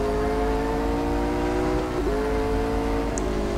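A race car engine in the video game Real Racing 3 drones steadily at high revs, with a slight pitch dip partway through, loud and continuous.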